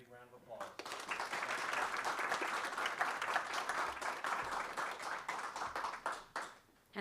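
An audience at a school board meeting claps for a principal and a teacher being recognized, a full round of applause that holds steady for several seconds and then trails off, captured faintly at low level.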